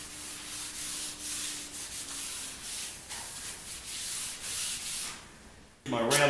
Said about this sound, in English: My random orbital to scrub the top of these tables